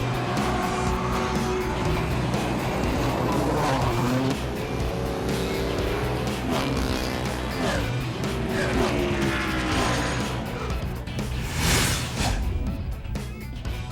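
Ferrari and Porsche sports racing cars at full throttle at Laguna Seca in Monterey, California, during a 2007 ALMS season finale, with engines loud and continuous, rising and falling pitch sweeps as cars pass, and a brief tire squeal near the end.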